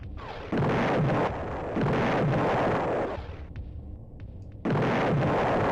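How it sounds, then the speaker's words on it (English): Grenade explosions in an Amiga run-and-gun game: loud, sustained booming blasts in three long rolling waves, separated by a short quieter rumble. "Wasting grenades like they're going out of style"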